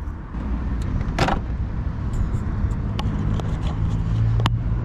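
A single solid thump of a car door or boot slamming shut, heard over a steady low rumble of traffic and engine noise.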